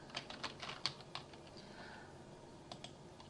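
Quiet, close clicking of keys on a computer keyboard, a short burst of quick taps, a pause, then a couple more presses over a faint background hiss.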